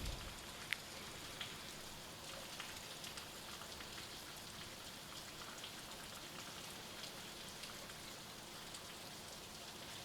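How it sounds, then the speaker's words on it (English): Steady rain in House Flipper 2 pattering on a surface, an even hiss of drops with occasional louder plinks, continuous and fairly soft, no voices. "I don't know why people find rain depressing."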